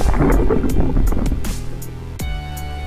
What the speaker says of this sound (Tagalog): yung mga bangka na nangingilaw sa laot ay kumakaripas na ng patakbo ng kanilang mga motor